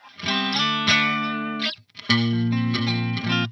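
Guitar through a Pogolab chorus pedal, a Boss CE-2 clone, with its depth knob turned all the way down, playing two sustained chord phrases separated by a brief gap, close and alone.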